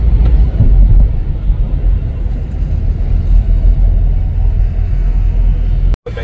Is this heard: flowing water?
no